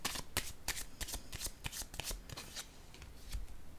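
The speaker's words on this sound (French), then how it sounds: "je vais déposer une carte sur ces deux-là" Tarot cards handled and laid down on a table, a quick run of crisp, papery flicks and taps repeating close up for several seconds with no voices.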